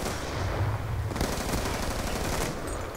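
Rapid automatic gunfire from a Call of Duty Black Ops II Démolition match, dense bursts of close shots running steadily through the moment with a sharper crackling stretch in the middle.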